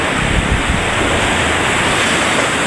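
Strong sea waves roll onto the shore at high tide in rough weather at a fishing spot, a loud, constant roar mixed with wind buffeting the microphone.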